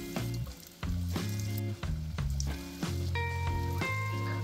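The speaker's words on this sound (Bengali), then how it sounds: "এবার একটা একটা করে কাটলেট তেলেতে দিয়ে দেব।" Paneer cutlets fry in hot white oil in a kadai, with a steady, soft sizzle running beneath louder music with a clear melody.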